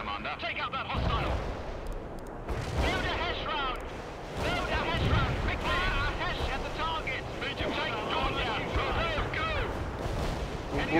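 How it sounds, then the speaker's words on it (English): Heavy artillery barrage in the World in Conflict video game, a sustained run of booming blasts and rumbling impacts that fills the whole stretch, with game voices talking over it. "We can start the heavy barrage."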